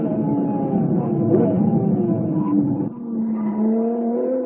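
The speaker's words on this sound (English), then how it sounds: "just listen to the noise of that V12" A V12 race car engine roars continuously on a racing circuit, a loud, sustained tone with a slight pitch dip near the end as revs fall and build again.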